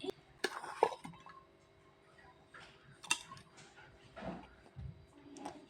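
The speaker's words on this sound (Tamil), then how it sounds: "மீன் குழம்பு வைக்கிறதுக்கு இப்போ நம்ம தேவையான மசாலாவை இந்த உரலில் இடிச்சுக்கலாங்க" Ginger and spices pounded in a stone mortar for a village-style fish curry, giving scattered dull thuds and a few sharp knocks at an uneven pace, quiet and close.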